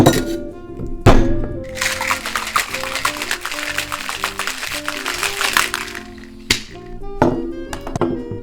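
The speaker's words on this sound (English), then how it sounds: "And then honestly, I'm just gonna shake it up." A peanut butter whiskey coffee cocktail is shaken in a cocktail shaker, a dense rapid rattle of ice lasting several seconds, framed by hard knocks and clinks of the tin at start and finish, close and loud.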